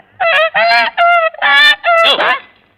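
A goose honks five times in a loud, close, rapid series of nasal calls, presented as a duck quacking in a Tamil comedy scene.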